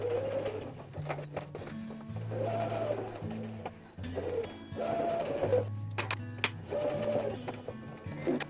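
A sewing machine stitches around the body of a fabric shark pin cushion, fast rhythmic mechanical chatter in repeated runs of a second or two, close and clear, with brief pauses between bursts.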